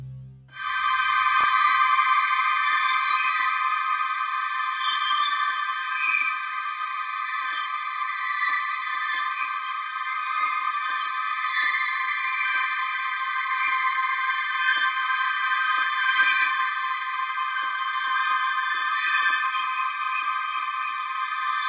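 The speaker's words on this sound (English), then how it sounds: "What you hear are the brilliant light waves consistently emitted by the Whirlpool's black hole" Sonified X-ray readings from the black hole in the Whirlpool galaxy: layered, steady electronic tones hum continuously for the whole stretch, bright and sustained with slight flickers, and no voices.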